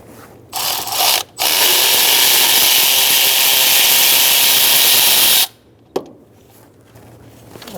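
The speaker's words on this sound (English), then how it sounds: "we're going to take out the top bolt" A power tool whirs steadily for several seconds while a top bolt comes out during an alternator replacement on a 2010-2013 Kia Soul 2.0L four-cylinder, with a short burst first and a faint click after it stops.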